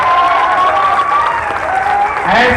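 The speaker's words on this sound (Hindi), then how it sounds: "मैं चाहता हूँ एक जोरदार तालियां होनी चाहिए गुरु जी के लिए।" An audience at a speech event in Sasaram bursts into loud, continuous clapping that fills the hall, with a voice rising over the applause near the end.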